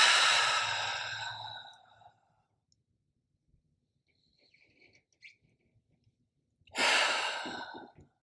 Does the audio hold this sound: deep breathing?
yes